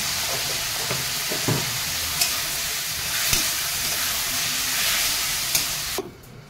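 Tomatoes frying with salt, turmeric, cumin and chili powder: a loud, hissing sizzle with occasional knocks of stirring, close by, cutting off abruptly near the end.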